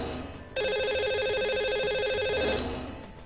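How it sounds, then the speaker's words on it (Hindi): A ringback tone sounds as a phone call is placed to a caller on a live broadcast, one steady pulsing ring about two seconds long over faint background noise. "तो लगाते हैं इन्हें अब कॉल और करते हैं इनसे बात।"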